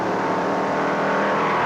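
A 1957 NASCAR convertible race car on the Daytona beach course, a loud, steady engine roar held at a powerful, even pace, close and continuous, with no one talking over it.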